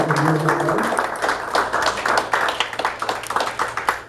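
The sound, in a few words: audience applause for the pageant judges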